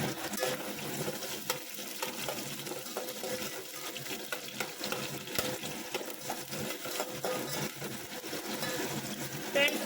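Thinly sliced onions fry in oil alongside bay leaf, star anise, pepper, cloves and cinnamon for chicken biryani, giving a soft, continuous sizzle with occasional stirring scrapes, fairly quiet and close.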